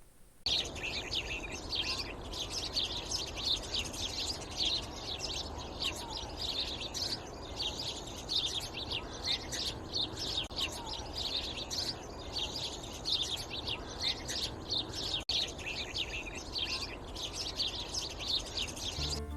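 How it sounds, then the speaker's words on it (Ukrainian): A sparrow chirps in quick, bright, repeated bursts that continue steadily throughout, fairly close and clear over a soft background hiss. "Дітки, послухайте, як цвірінчить горобчик."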